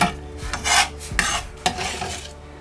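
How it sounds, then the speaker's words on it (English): Leeks sautéing in butter in a pan, with a soft sizzle under scraping and stirring strokes of a utensil against the pan, several brisk rubs and a couple of light knocks, close and moderately loud. "I'm now going to saute those in butter"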